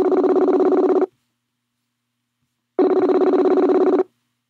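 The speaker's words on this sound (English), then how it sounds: "Answer the phone, coward." A telephone rings out on an unanswered call: two loud, buzzy ring bursts of about a second each, separated by a long silent gap, with the line audible clearly and alone.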